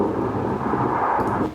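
Water forced through a dam roars as a loud, steady low rumble, broad and continuous at close range, with no voices and only a slight fade at the very end.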